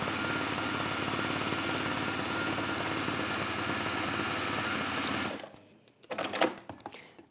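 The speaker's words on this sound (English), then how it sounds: "I'm just sewing it to a strip of Christmas fabric." A sewing machine runs steadily, stitching felt onto a strip of Christmas fabric. The close, fast whirring lasts about five seconds, then stops, followed by a few soft handling noises.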